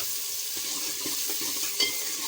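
Chopped onion and finely chopped green chili fry and sizzle in a pan, a steady hiss broken by soft scraping stirs and a brief clink near the end.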